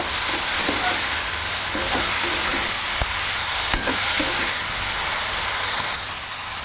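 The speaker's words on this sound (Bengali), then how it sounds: "এবার যে মোচাটা সিদ্ধ করা ছিল, সেই মশলাটা এর মধ্যে দিয়ে দেবো। ভালো করে এর সাথে কষাতে থাকবো।" Boiled banana flower tossed with a spice mixture sizzles steadily in a pan, a continuous loud frying hiss with occasional scraping stir clicks and knocks, no voices.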